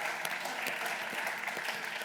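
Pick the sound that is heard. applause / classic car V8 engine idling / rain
applause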